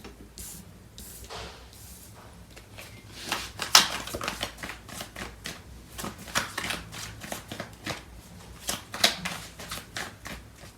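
Tarot cards shuffled by hand during a love reading, a long run of soft papery riffles and flicks, some sharper snaps standing out, recorded close with no talking.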